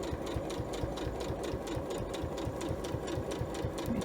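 A sewing machine stitching the binding on a mug rug runs at speed, giving a fast, even mechanical chatter of needle strokes that stays close and steady throughout.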